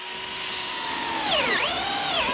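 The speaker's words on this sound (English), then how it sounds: "drill a series of holes and put a slot in the edge" A DeWalt drill bores a series of holes into the edge of a wooden board set in a multi-angle drill guide. It gives a steady, close motor whine whose pitch sags and recovers as the bit bites.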